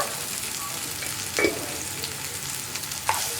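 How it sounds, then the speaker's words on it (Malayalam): Tomatoes sauté in a pan for coriander chutney, a low steady sizzle with two sharp spoon-against-pan stirring clinks, close and without speech. "തക്കാളിയും കൂടി ചേർത്തിട്ട് ഒന്ന് കുക്കായി വരണം കേട്ടോ"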